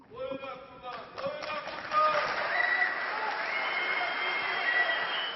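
Applause fills a conference hall as a summit crowd claps, a dense, moderately loud patter that swells after the first two seconds and holds steady, with faint scattered voices at the start.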